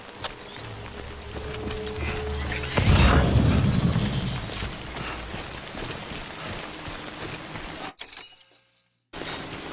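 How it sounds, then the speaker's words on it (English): Steady rain pours in the Death Stranding video game, a dense hiss that swells louder partway through and then drops out briefly near the end before returning. "Good thing it was raining."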